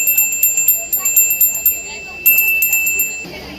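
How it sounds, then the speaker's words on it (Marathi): A brass puja bell rings in quick repeated strokes, bright sustained metallic tones with a steady rhythm, pausing briefly midway before resuming, close and clear. "घंटी बघू शकतात, अगदी मधुर आवाज आहे"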